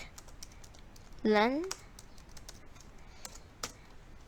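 Computer keyboard keys click sparsely while Python code is typed, producing a few scattered, fairly close taps beside a brief spoken word.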